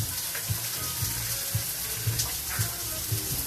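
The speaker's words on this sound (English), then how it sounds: "I'm going to add that water" Water pours into a pan of chicken stew with stock, sizzling and bubbling against the hot pan residue from cooked onions, a steady splashing hiss with small rhythmic surges.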